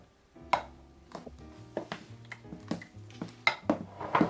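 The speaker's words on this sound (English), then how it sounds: "I'm just going to mix in the seasonings and make sure that we got all of our egg yolks" Seasonings being whisked into beaten eggs in a bowl for a keto ham and cheese frittata, heard as irregular close metallic clinks and taps against the bowl with short pauses, no talking.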